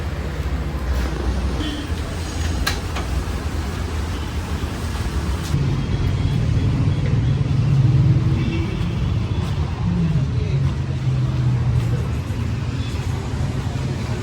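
A Mahindra Thar engine running, a continuous low rumble that swells a little louder midway and then settles back to a steady drone.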